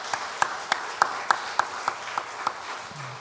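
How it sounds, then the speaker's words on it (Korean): A church congregation claps during a Korean worship service, a series of spaced, fairly even claps over a low room murmur. "하나님께 감사의 박수를 힘차게 올려드리겠습니다."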